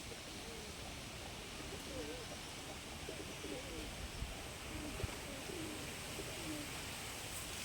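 Golden pigeons coo in a low, soft, repeated pattern amid a steady wash of background noise, with faint talk mixed in throughout.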